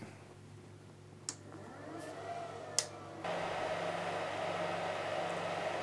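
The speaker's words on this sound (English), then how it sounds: "you'll hear the fan noise come up here in just a moment" Cooling fans in Agilent electronic test instruments, including an E4360A solar array simulator, spin up into a steady airy whir, with a couple of brief beeps and a louder broadband rush as more fans kick in, no talk.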